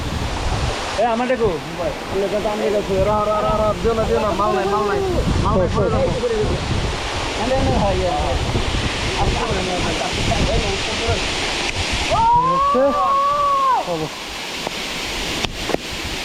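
The Dhuppani waterfall roars in a constant, loud rush of water, with people talking over it throughout.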